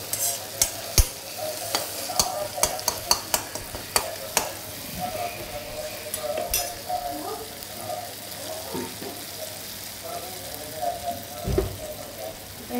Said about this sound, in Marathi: आता हे चांगलं तेलात शिजवून घ्यायचं.